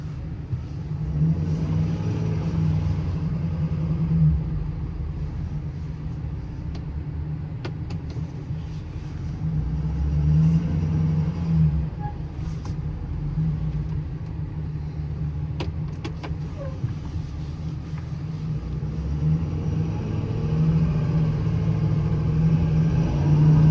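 A 2018 Ford F750 extended-cab crane truck with a Stellar 12630 crane and new tires drives down the road, heard from inside as a steady low engine and road rumble with slight swells, plus a few faint cab rattles.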